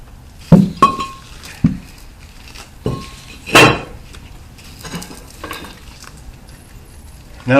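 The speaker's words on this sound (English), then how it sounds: "Now put the new rotor on." A new brake rotor is slipped onto the front hub of a Pontiac Grand Prix, giving several sharp metallic clinks and knocks at irregular intervals, close and fairly loud, with one heavier clunk in the middle.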